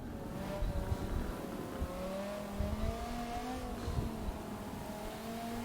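Hypercars racing in the wet at Silverstone in a racing video game, a steady engine drone with rising and falling pitch as the cars accelerate, heard fairly faint and continuous with no talk.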